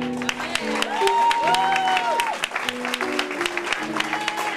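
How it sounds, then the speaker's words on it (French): An audience at a Christian gospel concert claps and cheers while sustained sung or instrumental tones carry on over the sharp, scattered hand claps. "Acclamons aussi pour le Seigneur"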